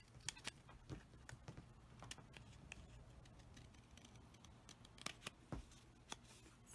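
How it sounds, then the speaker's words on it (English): Quiet, irregular snips and crisp cutting clicks from scissors trimming fabric for applique, scattered unevenly over a low background rumble. "I'm just going to trim this up with scissors."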